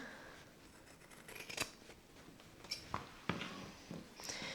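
Scissors snipping around stitched fabric letters for a sewing-project name banner, a few quiet, separate cuts and rustles of cloth, close and soft in a calm room.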